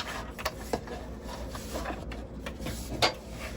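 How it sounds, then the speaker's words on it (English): A sewing machine stitches up the side seams of a fabric bag, heard as quiet mechanical rubbing and whirring with a few sharp clicks and thumps scattered through the short stretch. "So for me, I'm just going to sew up the sides"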